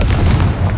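A blasting curse spell goes off in a fantasy wizard video game, giving a loud, dense booming burst of low rumble and crackle that fills the whole short moment without pause.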